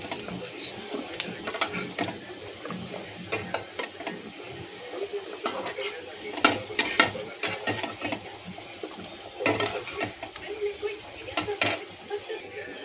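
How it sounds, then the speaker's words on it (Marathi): Vegetables frying in a pan for white sauce pasta, a low sizzle broken by irregular clattering stirs and utensil knocks against the pan, with faint bits of talking at times. "त्या अशा प्रकारे मी ह्या भाज्या सगळ्या थोड्याशा फ्राय करून घेतले"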